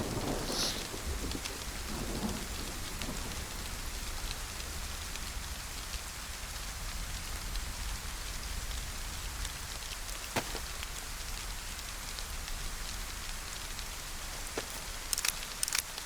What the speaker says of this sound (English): So yeah, so I'll wait for this rain to go off